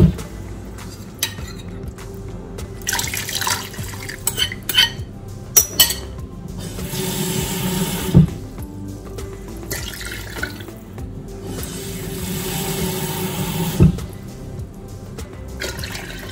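Water pours into a pot of stuffed zucchini filled with rice and minced meat, a rushing splashing flow in several bursts with occasional clinks of the pot, close and fairly loud.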